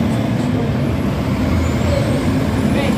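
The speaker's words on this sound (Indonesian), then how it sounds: "Kita akan pantau keberangkatan bus Sumbar menuju perantauan Jakarta, Bandung, Palembang dan sekitarnya bosku." A Sumbar bus departing gives a loud, close, steady engine rumble with a broad hissing, airy layer over it, constant for the whole moment with no voices.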